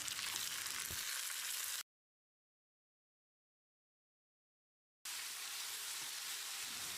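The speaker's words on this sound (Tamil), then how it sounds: "இதை போட்டு மசிகிற அளவுக்கு வதக்கிடலாம்." Tomatoes sizzle and crackle in a hot pan, broken by a few seconds of total silence before the frying resumes.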